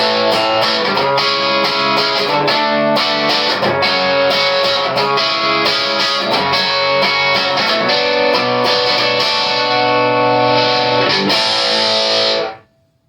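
A distorted electric guitar, a cheap AliExpress Les Paul Custom copy with cheap humbucker pickups, plays a driving riff with steady strummed chords, loud and continuous, then stops abruptly at the end.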